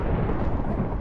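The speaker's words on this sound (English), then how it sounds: "I'm gonna watch for the thunder." Thunder from a Minecraft Hunger Games match rumbles as a brief, dense, low roll that stays loud throughout the short stretch.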